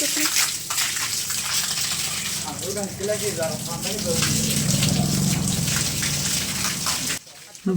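A steady hose jet sprays water forcefully onto garden plants, a continuous rushing hiss that runs for most of the stretch under people talking nearby, then cuts off abruptly near the end.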